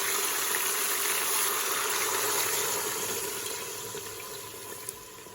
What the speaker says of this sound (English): I'm gonna add water to that.